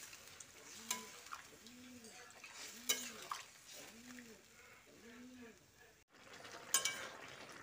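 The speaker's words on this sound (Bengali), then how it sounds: "জলটা দিয়ে মিশিয়ে দিচ্ছি।" Ridge gourd and potatoes being stirred with water in a pan, soft scraping and clinks of a spoon against the vessel with a faint simmer underneath, while someone speaks quietly and a bird chirps repeatedly in the background.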